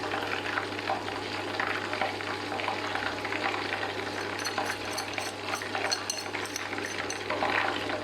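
Chicken fries in hot oil on an induction stove, giving a steady, dense sizzle and bubbling close by that holds throughout without any talking.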